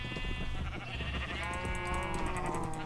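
Minecraft sheep bleating in a modded game world at feeding time, several short bleats sounding close over a steady bed of game background sounds, with no one talking.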